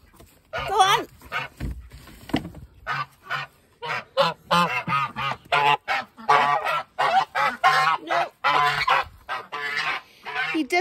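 A gander goose honks repeatedly and loudly up close in a farmyard at night, sharp rhythmic calls coming in quick bursts, with a voice talking briefly beneath them.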